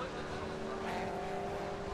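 BMW Compact Cup race cars at Knockhill circuit in Scotland, running through a curve with a steady, droning engine roar that stays continuous and moderately loud throughout.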